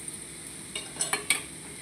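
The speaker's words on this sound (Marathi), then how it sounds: "हा असा तडका झालेला आहे. यामध्ये आपण मिरची पावडर टाकायची आहे." Chili powder hits a hot tadka tempering in a pan for dhaba-style dal, giving a few short, soft sizzling bursts close by over an otherwise quiet kitchen.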